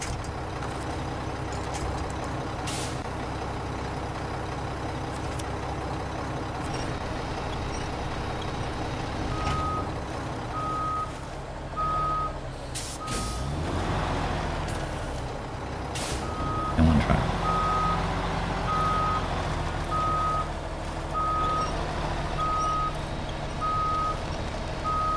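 A heavy truck backs up with a loaded heavy trailer in the SnowRunner video game, its diesel engine droning steadily while a repeated reversing beep sounds in even pulses over the rumble, with a hiss of air brakes partway through.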